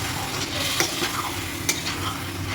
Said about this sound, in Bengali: খুব ভালো করে কষাবো।